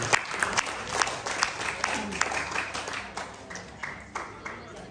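Audience applause for a presenter at a seminar on unit price analysis of construction work: a steady wash of clapping across the whole stretch with sharper individual claps popping out, moderately loud and fairly close, with a voice over it.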